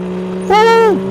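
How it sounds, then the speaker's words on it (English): A Honda NSX engine in Car Parking Multiplayer revs hard as VTEC kicks in, a single rising then falling rev sweep of about half a second over a steady idle drone, loud and close. "So VTEC does kick in on the new NSX."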